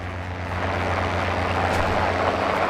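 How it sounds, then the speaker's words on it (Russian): A propeller warplane in the WWII shooter Enlisted drones steadily overhead, a continuous engine roar holding fairly loud and even throughout with no talk. "А это уже наш самолет летит."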